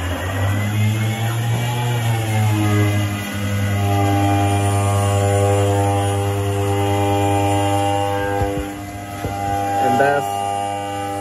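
A retrofitted Brother TC-227 CNC machine on Mach3 control runs its spindle at 2,000 RPM for a skin pass, a steady loud tonal whine with layered harmonics over a constant hum throughout.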